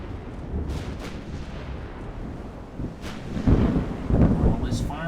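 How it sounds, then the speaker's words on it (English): Warship guns fire in the Ultimate Admiral Dreadnoughts naval game, heard as a couple of deep, booming blasts rolling over a low battle rumble while a voice speaks over the action. "Cornwall is firing."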